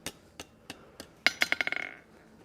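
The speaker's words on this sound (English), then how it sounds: "standing up on the anvil here, just gonna tap this tip around, make a really nice little, tight little scroll with it there" Forging hammer tapping a hot scroll tip on an anvil, a few spaced taps and then a quickening run of ringing metallic strikes, close and clear with no talk.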